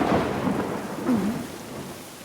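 Continuous heavy rain with a low rolling rumble of thunder, steady and enveloping, no voices.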